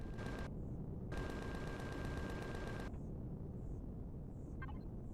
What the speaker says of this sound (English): I'm not exactly sure what this guy's shooting